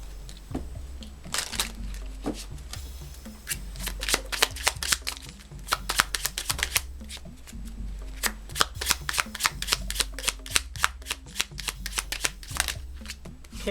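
Oracle cards from the 24 Oracle by Witchwood deck being shuffled by hand, a long run of crisp, rapid riffling bursts up close with a steady rhythm and no talking.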